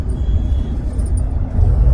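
Moving road traffic in Mumbai forms a loud, continuous low rumble of engines and tyres, heard from close by without any voices.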